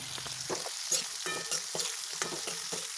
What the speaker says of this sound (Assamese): এতিয়া মই ভাতকেৰেলা ভাজিখিনি বনাই লৈছোঁ